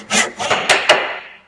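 A handsaw makes the last strokes of a cut down to the shoulder line of a wooden tee bridle joint, four quick, loud, rasping pushes close by, each with a sharp woody bite.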